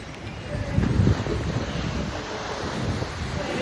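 Sea waves and wind at Beypore beach make a steady, loud rush of surf with strong wind buffeting the microphone throughout. No voices can be heard.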